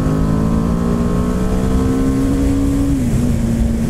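A 2017 BMW G 310 R single-cylinder motorcycle engine revs loud and close, its pitch climbing steadily while accelerating before dipping briefly at a gear change and pulling again.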